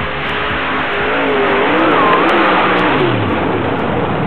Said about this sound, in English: This 64 Corvette funny car out of Buchanan, Michigan sports a 525 cubic inch Keith Black Hemi engine